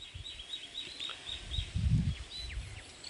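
Lesser whistling ducks call over a jute field on a breezy day, a series of thin, high chirping whistles repeating at moderate distance over soft low wind rumbles, with no one speaking.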